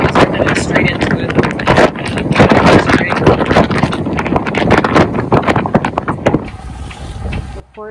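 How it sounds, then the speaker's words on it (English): Strong wind roars steadily over a sailboat motoring into a headwind toward Nafpaktos, Greece, buffeting loudly and close throughout before easing near the end. "Well, now the wind has really picked up and it's cooled way down"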